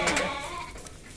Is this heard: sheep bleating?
yes